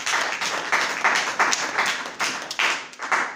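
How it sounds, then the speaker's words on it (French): Church congregation clapping together in an irregular rhythm of sharp, close hand claps with a murmur of voices underneath, lively and sustained. "Acclamez pour la gloire de l'Éternel."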